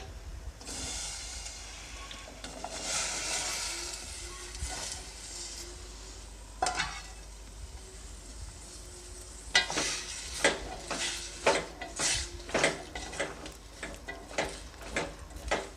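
Sliced cucumber is tipped into a pan with a little water and stirred while cooking for a cucumber palya, bringing a soft sizzle, then a series of close, sharp clacks and scrapes of a spoon against the pan, with no talk.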